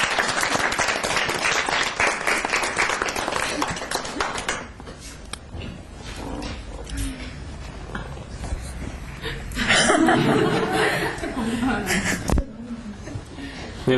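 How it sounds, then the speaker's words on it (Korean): Studio audience applauding at a Korean life-lecture talk show, dense clapping for about four seconds, then fading into scattered claps, chuckles and talk, with a brief renewed burst of clapping and laughter near the end. "우리 박수 한번 해주세요."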